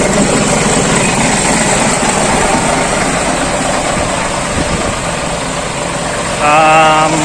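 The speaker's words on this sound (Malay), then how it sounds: "Engine mau repair tidak ada power." A second-hand lorry engine with a fault and no power runs at a steady loud rumble with a dense, even drone throughout, rising briefly near the end as a voice speaks over it.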